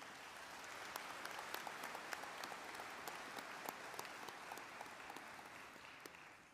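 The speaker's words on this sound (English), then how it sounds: "Let's give her another round of applause" Audience applause at a university spring commencement ceremony, steady dense clapping sustained throughout with scattered sharper individual claps standing out, heard from a distance in a large hall.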